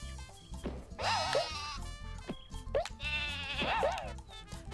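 Sheep bleat loudly twice in a row in the Croc: Legend of the Gobbos video game, wavering cries over a steady game music backing.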